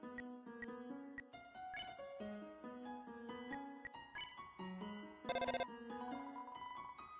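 A phone rings in the video game Undertale as a bright, chiming electronic melody of short rising tones, with a brief buzzing burst near the end. It plays alone and steady, with no voices.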